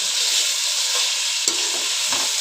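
Finely chopped bell pepper sautés in a pan for pav bhaji, making a close, steady sizzling hiss broken by a single stirring clack, with no talk.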